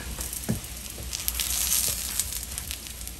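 A chicken burrito sizzles in a hot pan, with a steady close crackle and a few soft thumps and pops rising over it, heard alone without speech.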